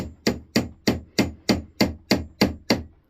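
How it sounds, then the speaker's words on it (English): Nine evenly spaced, sharp knocks of a small hammer driving wooden dowels into joined boards for a chair seat, each strike crisp and close with a short woody ring, no voices. "I'm going to hit it in with my trusty dusty little hammer right here."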